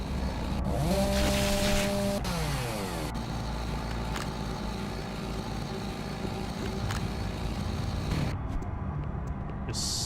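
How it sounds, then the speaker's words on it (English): Chainsaw in the video game DOOM 3 on the original Xbox, a continuous buzzing engine drone with pitch sweeps as it revs, loud and steady for several seconds, cutting off near the end. "Just sounds like a chainsaw."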